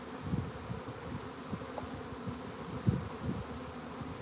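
A live honey bee swarm hums in a low, continuous drone, dense and steady, with a few louder bees passing close; no voices.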